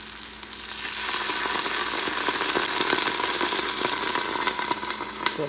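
Mutton sizzles and fries with ginger garlic paste in a hot pan, a loud continuous crackle with scattered pops and occasional scrapes of stirring, heard alone throughout.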